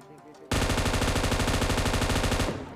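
Automatic gunfire in the Free Fire battle royale game, a sustained rapid burst of evenly spaced shots lasting about two seconds, loud and close, beginning abruptly after a quieter stretch of game sound.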